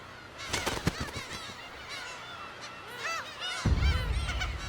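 Black-tailed gulls defending territory on Dokdo give harsh, nasal, honking calls that overlap in a loud, close chorus, rising against wind and surf rumble toward the end.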